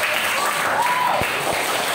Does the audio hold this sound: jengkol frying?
no